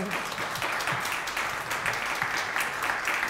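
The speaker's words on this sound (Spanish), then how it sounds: "Un aplauso" Applause from an audience at a talk event welcoming a guest, a steady dense patter of many hands that stays even and fairly loud for the whole stretch with no voices over it.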